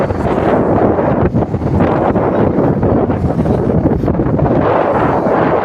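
Strong wind roars and buffets the microphone nonstop at a farm, a dense rumbling rush with brief gusty dips, loud and close.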